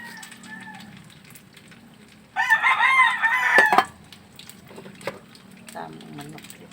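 A rooster crows once, loud and close, in a drawn-out cock-a-doodle-doo lasting over a second, with quieter household sounds and faint talk before and after.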